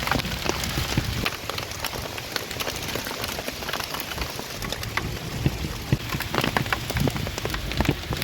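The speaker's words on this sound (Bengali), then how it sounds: "চলুন তাহলে আপনাদের একটু বৃষ্টি দেখিয়ে আনি" Persistent rainfall patters on surfaces nearby, a dense wash of drops with frequent crisp taps and plinks standing out, no one speaking.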